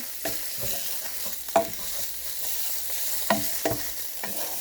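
Sausage is chopped and stirred while cooking on a Pampered Chef Rockcrok grill stone, a soft steady sizzle broken by several distinct scraping and tapping strokes of a utensil, no talk.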